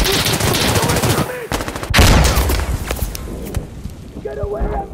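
Insurgency: Sandstorm gunfire crackles in close, rapid bursts with a loud sharp volley near the middle, while players shout over the shooting.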